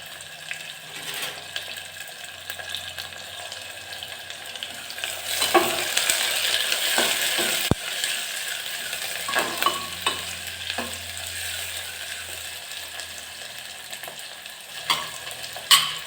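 Chopped onion and two green chillies sauté in a pan for dal khichdi, giving a steady soft sizzle with intermittent scraping stirs and a few louder clinks, no one talking.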